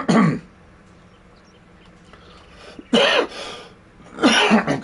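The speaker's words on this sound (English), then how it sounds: "Why am I coughing here?" A man coughs in three separate harsh bursts, near and loud, with quiet gaps between them while he is playing a computer game.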